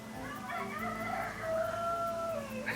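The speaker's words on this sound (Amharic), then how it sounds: "ዶሮ ሲጮህ ሰማችሁ አይደል?" A rooster in an Abu Dhabi zoo park crows one long drawn-out call, moderately close and clear over quiet background ambience.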